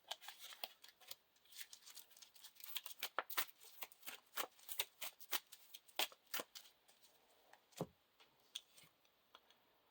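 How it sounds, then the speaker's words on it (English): Quick, crisp riffling and flicking of playing cards in bursts, fairly close and quiet, with no talking. "Shuffle the encounter deck."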